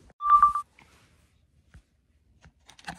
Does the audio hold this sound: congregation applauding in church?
no